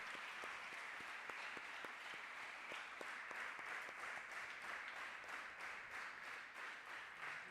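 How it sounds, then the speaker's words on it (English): Steady audience applause after a memorial lecture for International Microorganisms Day, a dense, even wash of clapping with a few louder individual claps standing out, heard from a moderate distance and sustained without talk. "I request the house to join me in another round of applause for Professor V."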